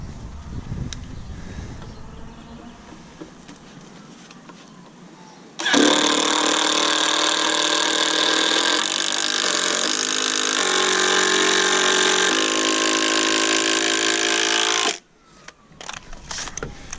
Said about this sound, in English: We're gonna pre-drill anyway. We're gonna keep fastening it up.